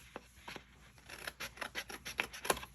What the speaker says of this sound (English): we're going to cut this little skinny part completely off all the way across